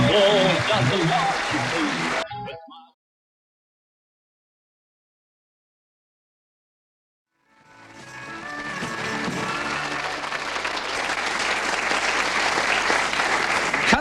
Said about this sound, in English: That applause doesn't last.